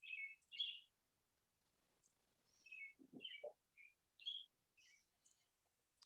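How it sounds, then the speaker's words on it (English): Several birds chirp and tweet in short, bright bursts scattered across the stretch, some close and clear, with a couple of lower thumps between calls and no talking. "There's a lot of birds chirping over here."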